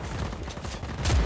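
Sniper rifle fire in the video game Just Cause 4 comes as a dense, rumbling burst of gunfire with a sharper, louder shot near the end, heard alone over a brief stretch.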